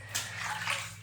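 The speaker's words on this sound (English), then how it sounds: "just a rinse with warm water from the bath" Warm bathwater splashes and trickles close by as skin is rinsed, a short bright wash of water sound with soft gurgles and no voices.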